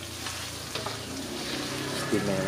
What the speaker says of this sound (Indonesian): Sambal paru bledek sama goreng babatnya ini.